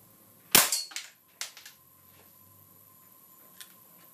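Sharp air rifle shots strike a computer hard disk drive, two loud cracks with short metallic rattling tails, followed by a fainter distant tick near the end against a quiet background.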